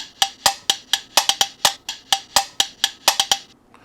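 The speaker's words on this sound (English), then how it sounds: "So it's an Afro percussive loop that sounds like this." A dry, bright Afro hand-percussion loop with sharp, evenly spaced hits in a lively groove, played alone and close, ending with a short decay.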